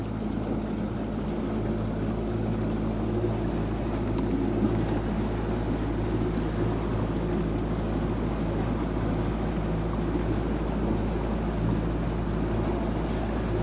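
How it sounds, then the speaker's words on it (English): A boat's trolling motor runs at low speed on the water, giving a steady, low droning hum with faint water and wind noise, unbroken and fairly close for the whole stretch, with no voices. "Just gonna go on up with my trolling motor down. I won't go very fast."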